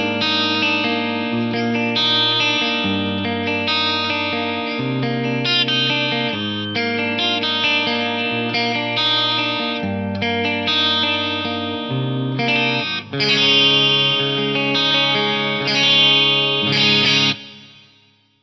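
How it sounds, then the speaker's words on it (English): A clean electric guitar through a Lexicon MPX-1's stock chorus effect, with hall reverb, plays a shimmering melodic phrase of chords and notes, ringing out alone and ending in a brief fade. "let's hear this clean sound with just a straight up stock chorus settings"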